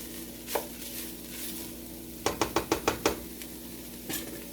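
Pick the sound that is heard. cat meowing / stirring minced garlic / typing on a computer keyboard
stirring minced garlic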